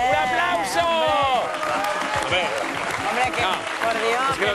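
Television studio audience applauds on a Spanish game show, clapping mixed with cheering and excited voices talking over it for the whole stretch.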